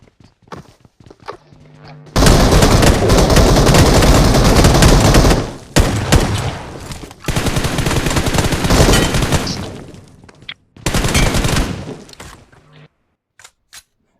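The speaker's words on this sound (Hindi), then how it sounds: "यहाँ पर तो गाइज मैंने इस बंदे के मुंह पे शॉटगन तो बहुत ज़्यादा हाँक दी।" Gunfire in the BGMI mobile battle royale game: dense, sustained bursts of rapid shots in several long loud stretches, broken by short gaps and occasional single thumps, with no talk.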